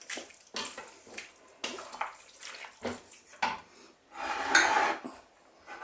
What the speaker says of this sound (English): now a can of tomatoes, which I've chopped. Give that a mix.